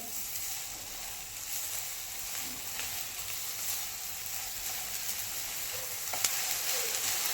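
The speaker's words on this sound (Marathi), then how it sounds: "आता हे छान असं भाजून घ्यायचं आहे" Coconut and jaggery filling for modak roasts in a pan, giving a faint, steady low sizzle with a few soft stirring sounds and no voices.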